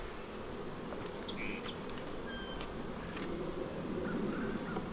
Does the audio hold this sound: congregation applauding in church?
no